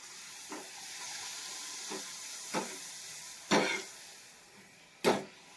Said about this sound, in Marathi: थोडासाच पापड टाकून बघते तापलंय तापले आता घेते तळायला